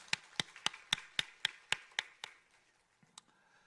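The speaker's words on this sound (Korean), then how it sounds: "박수하겠습니다" Sharp hand claps ring out in a church service, nine evenly spaced loud claps in a steady rhythm, then a pause and a couple of scattered fainter claps, with no talking.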